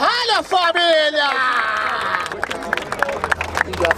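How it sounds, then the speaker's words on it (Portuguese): Crowd noise at a Brazilian freestyle rap battle in Barueri, with cheering, shouting and scattered clapping rising loud then thinning into sparse claps and a brief voice over the crowd. "Palmas pra essa batalha, família!"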